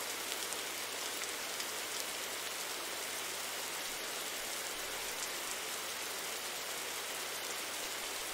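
Heavy rain in a game engine level at night, a steady dense hiss of falling water that runs unbroken for the whole stretch with no talking.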